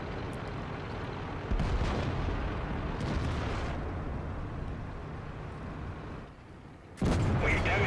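Booming tank cannon shots in World of Tanks, a heavy blast near the start and another sharp one near the end, with a steady engine and battle rumble between them and no talk.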